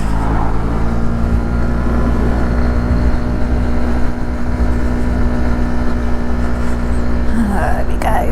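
A learner's motorcycle engine labours in a low gear, a steady loud drone with wind buffeting throughout and a brief rise near the end.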